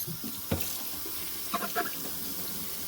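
Parts of a wet dry vacuum are rinsed under running tap water, a quiet, steady splashing stream with a few brief clatters of plastic pieces being handled.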